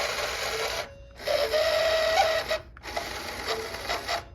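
Car power side mirror motor in a Foxbody project car, running in three bursts of loud, close buzzing whir with a rasping, grinding edge and brief pauses between them.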